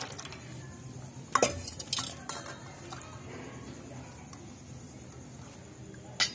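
Gram flour batter is mixed by hand in a Punjab village kitchen for kadhi pakora, giving soft, quiet stirring with a few sharp clinks of dishes and utensils.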